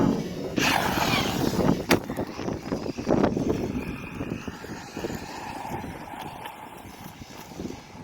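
Losi DB Pro RC truck motor whirring at part throttle, a steady buzzing drone with a few sharper surges early on, fairly close and continuous throughout.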